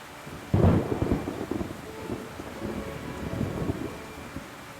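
A heavy thunderstorm: a loud, close clap of thunder cracks and rolls into a long rumble while rain and wind hiss steadily underneath.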